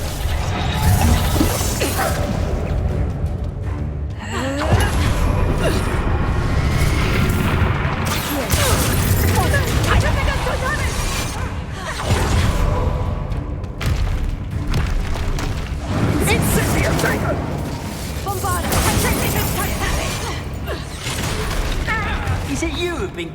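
A Reductor spell is cast in a wizard video game, producing heavy booms and crashing blasts that recur amid dense, continuous battle noise, with voices heard among the effects.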